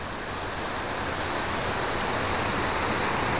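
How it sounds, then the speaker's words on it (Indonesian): Munduk waterfall, a modest but fairly tall falls, gives off a steady, dense roar of falling water, constant and close with no break through the whole stretch. "Di sini terlihat air terjunnya tidak begitu besar ya, tapi lumayan tinggi ini air terjun."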